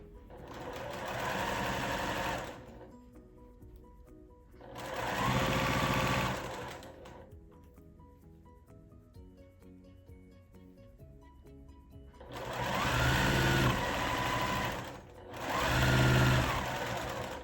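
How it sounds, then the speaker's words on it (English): A sewing machine stitches a quilt block in bursts, four loud runs of rapid whirring with quiet pauses between, close by and with no talk. "I'm just going to sew this together"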